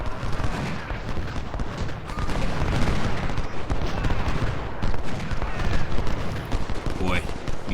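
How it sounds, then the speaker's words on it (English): Civil War artillery in Ultimate General: Civil War at Gaines Mill: continuous heavy battle din of cannon booms and rattling volleys, with a voice talking over the steady roar. "Looks like our artillery is doing plenty of contributions"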